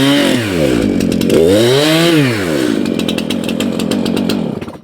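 A chainsaw cutting difficult wood on a sawmill, loud and close, its engine pitch swooping up and down as the chain bogs and revs through the cut before trailing off at the end.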